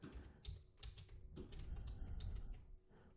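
Typing on a computer keyboard, a close, quiet run of rapid key clicks in irregular bursts with no voices.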